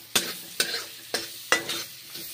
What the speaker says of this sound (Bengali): রসুনগুলো বাটার দিয়ে ভেজে নিচ্ছি